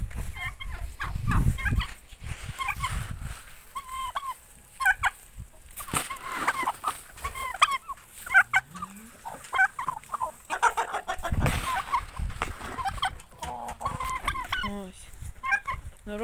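Young turkey poults being hand-fed fresh grass peep and chirp in a busy, overlapping chorus, close by and fairly loud, with a few low gobble-like calls and rustling mixed in throughout.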